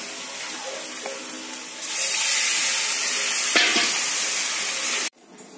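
Spice masala fries in a pan with a steady hiss that suddenly swells into a louder, brighter sizzle, with faint scrapes and clinks of stirring, before the sound cuts off abruptly.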